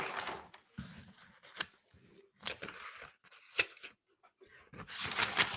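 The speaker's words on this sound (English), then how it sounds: "excuse me while I shuffle through my notes" Paper notes shuffled and rustled in bursts, with crisp crinkling and tearing-like handling noises coming close and fairly loud between short quiet gaps, no voice over them.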